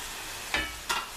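Steak fries in hot pans with a steady, close sizzle, broken by two brief louder hissing bursts.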